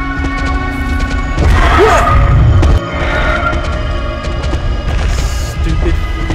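A horse neighs and whinnies inside the dark survival-horror game DreadOut, set against a heavy low boom and crashing game sounds, loud and close, with no talking over it.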